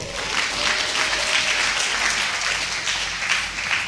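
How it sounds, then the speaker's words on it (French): Congregation at a church worship service applauds steadily, a dense, loud wash of many hands clapping that fills the whole stretch without pause. "On applaudit le Seigneur puissamment."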